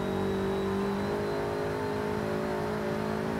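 A new car's engine hums steadily while driving, a continuous tonal drone that holds throughout with no voices.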